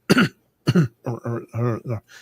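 A voice imitates coughing and throat clearing: a few short, rough bursts separated by brief pauses, close and fairly loud.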